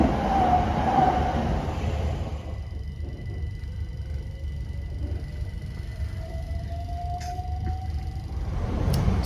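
A Southeastern Class 376 Electrostar electric train runs on the main line out of Hither Green toward Grove Park, heard from on board as a steady, loud rolling rumble with a faint motor whine slowly rising in pitch. No one speaks.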